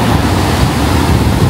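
Sea waves beating against the coastal road from Karwar to Goa where the beach has disappeared, a loud, constant roar of surf mixed with wind buffeting the microphone, with no voices.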